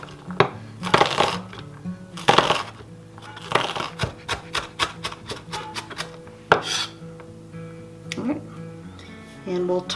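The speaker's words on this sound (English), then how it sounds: "And I'm gonna dice this pretty finely." A knife dices an onion finely on a cutting board for meatloaf, giving quick irregular chops and rapid runs of sharp taps, close up, with a person talking over parts of it.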